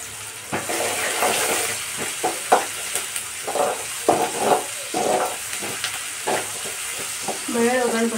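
Garlic tempering frying in hot oil, a loud close sizzle that crackles steadily throughout, with occasional scrapes and stirring of a utensil in the pan.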